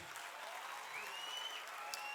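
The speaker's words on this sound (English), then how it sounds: "let's clap and celebrate everybody" Applause from an audience at the Suryadatta National Award 2025 ceremony, a steady, fairly faint wash of many hands clapping together with no break.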